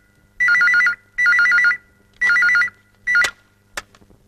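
A telephone ringtone sounds in three loud, evenly spaced warbling bursts, then a cut-off fourth burst and two sharp clicks, close and clear with no talk.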